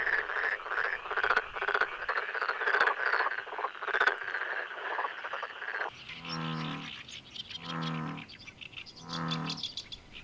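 Male frogs calling to attract mates: a dense chorus of rapid chirping croaks, then three loud, pulsing, resonant croaks close by, each about a second long, with no voices.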